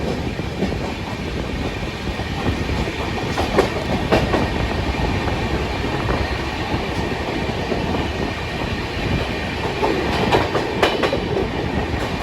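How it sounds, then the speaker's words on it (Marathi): Janshatabdi Express departing Thane and running on the rails, heard from inside a coach as a continuous loud rumble with rhythmic clickety-clack of wheels over joints and occasional metallic squeals, during monsoon season. "तर आता ठाण्यावरून आपली ट्रेन सुटली आहे"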